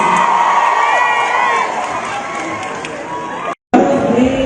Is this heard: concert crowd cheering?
yes